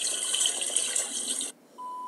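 Rice is rinsed under running water, a steady bright splashing stream for about a second and a half, then it cuts off, leaving a short quiet gap before a thin steady electronic tone.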